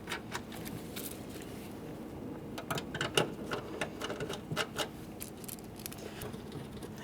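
Mounting bolts being driven into a door panel on a 2009-2014 Nissan Maxima, heard as quick bursts of rapid mechanical rattling and clicks over a low steady hum, fairly faint and close.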